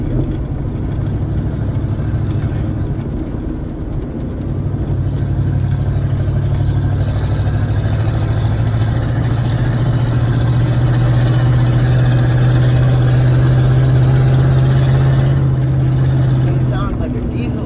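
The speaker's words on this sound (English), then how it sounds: "It sounds like a diesel without that exhaust." A diesel tractor engine running without its exhaust fitted, heard while raking a mowed field: a loud, steady, close drone with a strong low hum that holds throughout without a break.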